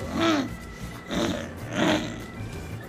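A toddler imitates a car with her voice, three growling, revving vroom sounds in a row, each swelling and fading, close and loud with short pauses between.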